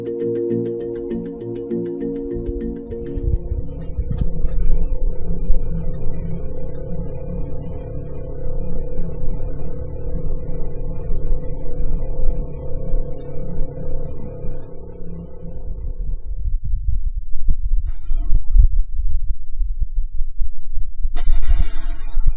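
Birds and an ocean wave are rendered as they would sound in a Martian atmosphere: a heavily muffled, low, droning rumble with a faint throbbing hum, steady for most of the clip before thinning out near the end.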